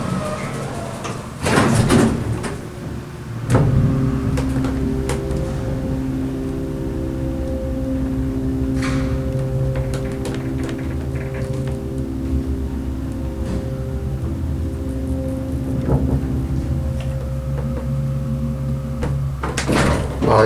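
A TK-Mod Lodestar hydraulic elevator with custom Impulse fixtures at the Pearson Professional Center: doors thud shut early on, then the pump motor hums steadily and tonally for about fifteen seconds before the doors move again at the end.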